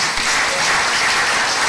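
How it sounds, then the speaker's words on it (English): A dense, steady burst of audience applause at an official inauguration ceremony for a standing committee, loud and continuous with no voices standing out. "let's give him a big round of applause"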